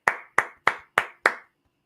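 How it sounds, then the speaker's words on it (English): Hands clap five times in an even, steady rhythm, each clap sharp, close and isolated, with a short pause after the last. No voices. "Are you going to clap?"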